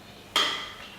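Beef dropped into a Thermomix mixing bowl while making beef stew with chopped vegetables, a single bright clattering impact near the mic, then a short fading ring.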